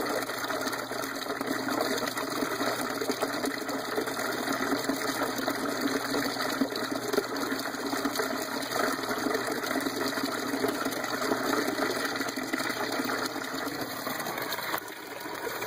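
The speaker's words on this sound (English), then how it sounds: "And it's about to overflow. It's just starting to overflow." Water pours steadily through an ABS pipe siphon starting to overflow, a constant rushing, gurgling wash that stays even and close for the whole stretch, with no one speaking.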